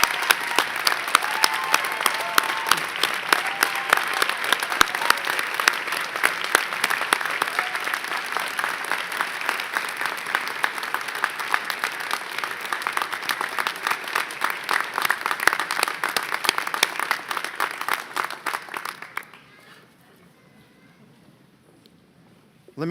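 An audience at a medical school class day ceremony applauds in sustained, dense clapping for nearly twenty seconds, then it fades and stops, leaving quiet.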